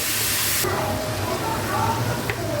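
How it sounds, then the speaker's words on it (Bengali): Beef frying in oil with onions and spices for a Bangladeshi beef tehari, a broad hissing sizzle that starts loud and near, then softens into a quieter steady sizzle. "এবার এই মাংসের মাঝে একটু পেঁয়াজের মাঝে এটাকে কষিয়ে নেব।"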